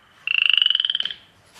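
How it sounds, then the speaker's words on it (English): A young Louisiana spotted bullfrog, about six months old, gives a single loud, close, pulsing croak of rapid regular beats lasting roughly a second, followed by quiet. "I'm gonna say it is a Louisiana spotted bullfrog that's only about 6 months old"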